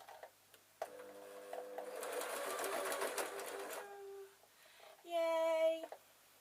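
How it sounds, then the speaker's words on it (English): A sewing machine stitches a straight line over cloth strips on a rag rug backing, running in a steady burst for a few seconds before stopping, followed by a short brighter mechanical whir near the end; no one speaks. "What I'm going to do is just sew a straight line, and I'm going to sew over these pieces."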